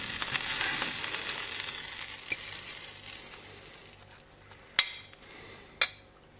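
Eggs fry in butter in a pan with a steady hiss that slowly fades, broken by two sharp clinks near the end.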